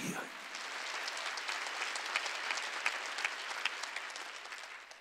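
Sustained applause from a church congregation during a worship service, dense clapping filling the whole stretch at a steady, fairly loud level with no pauses.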